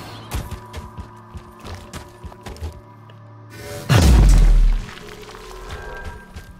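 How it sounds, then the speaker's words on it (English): In the video game FireFall, after a few light clicks and taps, a hammer strikes the ground with a single heavy low thump and a deep booming rumble that fades over about a second. "thumping on the ground or hitting the ground with your hammer"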